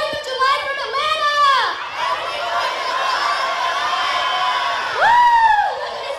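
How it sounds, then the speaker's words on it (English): A large crowd at a Fourth of July event in Atlanta cheers and whoops, with the loud, rising and falling shouts of a single voice in front of the steady crowd roar. "Look at this awesome crowd!"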